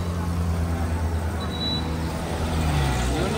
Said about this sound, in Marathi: बस आली बस आली.